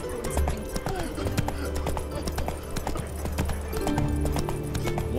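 A horse gallops in The Witcher 3, its rapid clip-clop hoofbeats loud and close, running continuously over a low rumbling game soundtrack.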